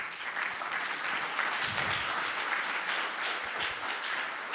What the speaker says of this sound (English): Let's give Mike a round of applause.